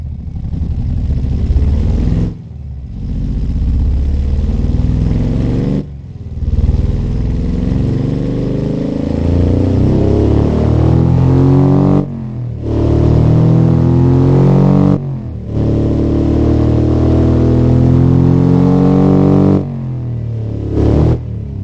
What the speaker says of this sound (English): Just listen to the idle noise. Sounds like a Harley Davidson V-twin engine.